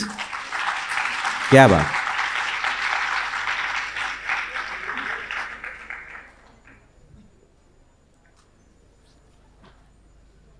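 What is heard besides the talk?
audience applause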